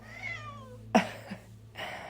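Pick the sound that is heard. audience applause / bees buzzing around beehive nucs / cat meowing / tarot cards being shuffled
cat meowing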